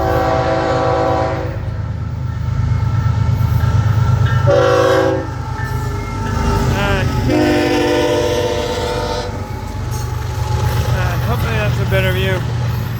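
FEC, CSX or Amtrak northbound train rolling past near Jacksonville, a steady loud rumble with horn-like tones sounding in bursts over the passing cars, while people talk nearby.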